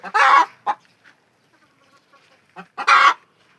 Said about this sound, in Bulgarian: Ето ги кокошки.